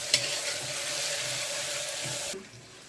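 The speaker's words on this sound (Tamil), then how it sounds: "இஞ்சி பூண்டும் போட்டாச்சு. நல்லா இதெல்லாம் வதக்கிக்கோங்க." Ginger and garlic sautéing in a pan for chana masala, a steady hiss of frying with a light clink at the start, close and moderate before it drops off sharply near the end.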